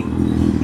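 Kawasaki Z800 motorcycle in a mall parking lot, its exhaust putting out a loud, close, steady low rumble with a slight throb for under a second.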